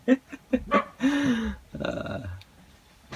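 A dog vocalizes close by, giving a quick run of short barks followed by a longer, drawn-out growling whine that tails off into a low rumble.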